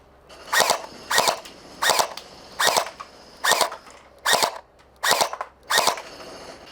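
A Nerf Gelfire Mythic gel blaster set to full auto fires eight short, sharp bursts at an even pace, each crackling burst separated by brief pauses, close and loud.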